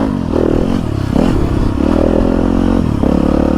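A motorcycle being ridden, its engine loud and close, with the pitch rising and falling in shifting steps over a continuous rumble and light rattling, and no talking.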